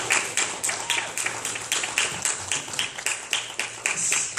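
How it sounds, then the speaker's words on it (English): Audience applause at a Sonic Revolution 2014 fan event Q&A, a steady run of fairly close hand claps with a sharp, rhythmic pattern throughout, moderately loud. "So, give you guys a round of applause for that"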